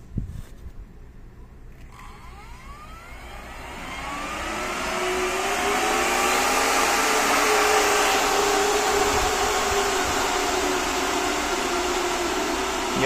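Two Delta cooling fans powered from a hundred-farad supercapacitor spin up from quiet into a loud, steady whirring roar, a rising tone settling into a sustained high-pitched hum.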